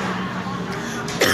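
A single short cough from someone speaking at a live writing session in New York, close and brief, heard near the end of a moment of quiet room tone.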